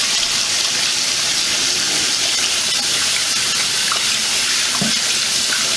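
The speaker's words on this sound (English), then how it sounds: "rinse off the chickeny hands." Hands rinsed under a running kitchen tap after handling raw chicken, a loud, steady close gush of water with faint splashes and a small clunk near the end.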